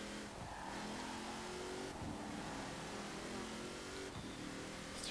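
A 1959 Plymouth Atomic Punk Bubbletop driving in Forza Horizon 4 holds a constant loud engine drone, with a few short shifts or dips in tone at regular intervals as it builds speed.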